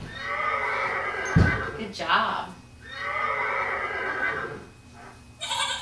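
Recorded horse whinnies, two long high neighs repeated, with a child and an adult speaking briefly between them.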